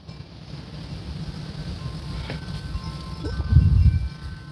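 Outdoor wind buffets the microphone with a steady low rumble that swells toward the end, heard alone during hula hooping.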